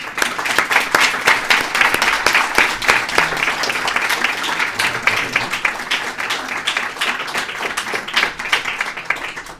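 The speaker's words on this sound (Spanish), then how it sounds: "un aplauso" An audience at a talk on reincarnation birthmarks claps together in sustained, even applause that tapers off at the end.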